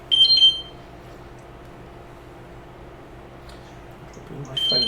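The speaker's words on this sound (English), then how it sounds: "Probably my phone screaming at me." A phone alarm goes off with a short burst of loud, high electronic beeps at the start and again near the end. A quiet background hum fills the gap between them, and a voice is heard faintly.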